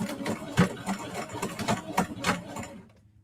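A home sewing machine stitches a small sachet deodorizer bag in short, uneven bursts of rapid mechanical chatter, close and moderately loud, stopping abruptly near the end.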